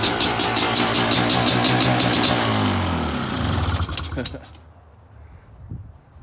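Suzuki sport quad engine running loud and close with a rapid, pulsing exhaust, then revs dropping away and cutting out as the carb is burned dry, with someone talking briefly near the end.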